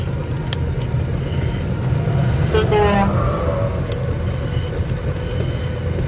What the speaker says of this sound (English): Honk of encouragement from a truck going the other way, a semi going the other way.